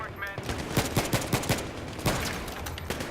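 Battlefield 3 gunfire, a rapid burst of automatic shots in a steady rhythm followed by scattered single cracks, loud and close over a busy battlefield din, with a voice talking underneath.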